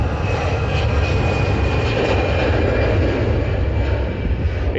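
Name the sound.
Lufthansa airliner takeoff roll to Munich, Manchester Airport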